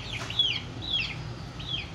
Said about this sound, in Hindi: देखो मुर्गे की आवाज़ें आ रही है